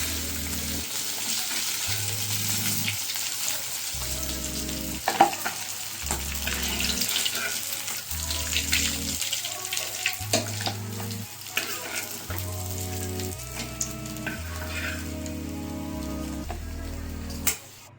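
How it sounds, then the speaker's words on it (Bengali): Rohu fish pieces frying in oil in a Kolkata kitchen, a steady close sizzle and crackle running throughout, with occasional utensil knocks and background music. "আপনারা রুই মাছের রেসিপিটির জন্য মাছটিকে লাল লাল করে ভেজে নেবেন"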